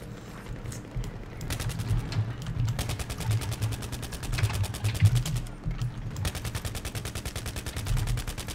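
Rapid automatic gunfire fills a Battlefield 3 match in Rush mode, with dense, continuous bursts of shots up close that barely pause throughout.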